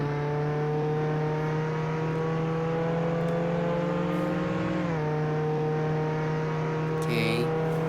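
A car engine in Roblox Jailbreak holds a steady, loud, tonal drone, dips in pitch briefly near the middle and then settles again, with a faint brief voice near the end.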